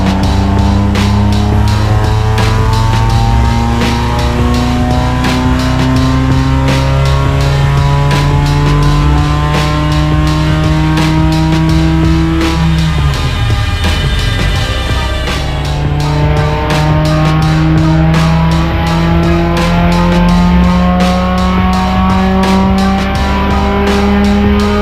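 All-wheel-drive, naturally aspirated Honda EK engine revving hard on a dyno, loud and close, climbing through the gears with a brief dip as it shifts before pulling up again, steady roar throughout.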